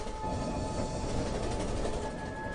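Train at a railway station, a continuous dense rumble of rolling cars with faint rail squeal, steady and fairly close, with no voices.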